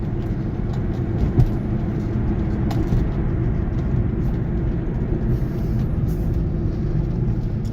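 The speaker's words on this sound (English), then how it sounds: "it sounds real nice with the exhaust." Steady low engine drone and road rumble from inside a car as it drives, a continuous loud bass-heavy hum with faint occasional clicks and no talking.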